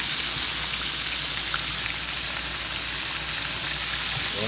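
Steady, dense sizzling and crackling of food frying in hot oil, continuous and fairly loud with no voices.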